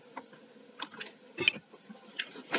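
Typing SQL queries on a computer keyboard: sparse, soft key clicks come in small irregular clusters, with one sharper louder tap in the middle, all close and quiet with no talk.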